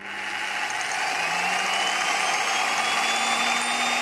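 An induction motor running at idle as a generator gives off a steady mechanical whine with a rising tone as it spins up, continuous and close with no talk.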